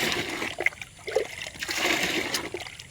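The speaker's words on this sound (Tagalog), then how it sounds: "karon pag aga sa mong tubig ni mga kaidol" Water runs and trickles steadily from a tap or pipe at a home, a continuous close splashing flow with brief gurgles, with no talk over it.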